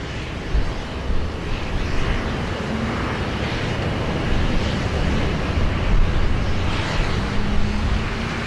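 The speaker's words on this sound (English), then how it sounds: "Our next arrival is a Qantas 737-800 coming in from Melbourne." A Qantas Boeing 737-800 arrives at rainy Sydney Airport, heard as a steady broadband roar of jet engines and wind noise that holds loud and even throughout, with no voices.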